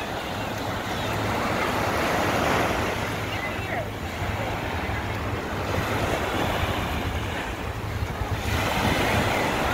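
Ocean surf washes continuously onto the beach at Dana Point near the marina, a steady broadband roar with rising swells, heavy wind buffeting the microphone throughout.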